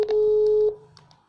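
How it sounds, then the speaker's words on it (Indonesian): A telephone ringback tone sounds while calling someone: a single steady electronic tone holds for about half a second, fairly loud and clear, then cuts off, leaving faint background noise. "Oke, kita coba telepon dia ya."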